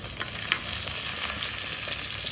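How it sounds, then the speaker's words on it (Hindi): A small onion fries in butter on a griddle with a steady, close sizzle and light crackle, broken by a few brief stirring clicks. "इसमें डाल देंगे एक छोटे साइज़ की अनियन। और अनियन जब अच्छे से फ्राई हो जाएगी"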